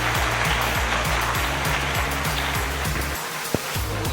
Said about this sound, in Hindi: मैं चाहता हूं कि आप सभी के लिए अब तक की सबसे जोरदार तालियां एक बार हो जाएं